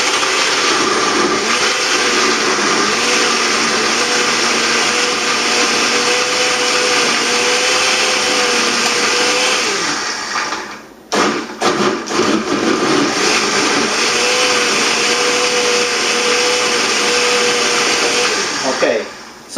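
A kitchen blender loudly whirs through shredded coconut for homemade virgin coconut oil, a steady dense roar that cuts out briefly near the middle, sputters back to full speed, then drops off at the very end.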